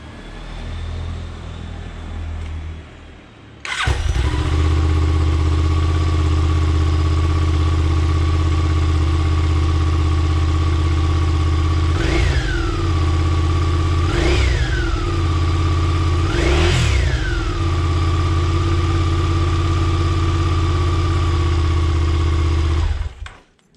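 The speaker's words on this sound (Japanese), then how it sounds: "純正マフラーの排気音も取っておきます。" A Suzuki SV650 motorcycle on its stock muffler cranks and starts, then idles steadily up close, with three quick throttle blips rising and falling partway through before the engine cuts off.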